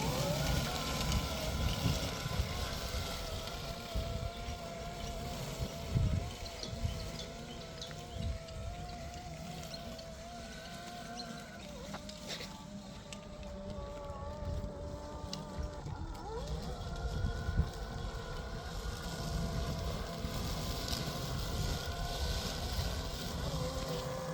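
A robotic lawn mower's cutting motor runs steadily, a wavering tonal hum with shifting pitch over a constant low rumble, lasting throughout.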